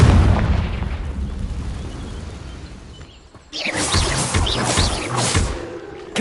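A Confringo blasting spell explodes in the wizarding game Hogwarts Legacy: a loud rumbling blast fades away, then after a brief lull a second sharp burst erupts and crackles on, with no talking over it.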